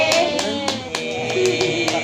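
A small group clapping hands at a birthday celebration for a child named Kiano, a steady run of sharp overlapping claps over low room chatter.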